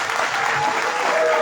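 Dense applause from an audience at a live concert, a continuous rush of many hands clapping, loud and close, lasting a brief moment.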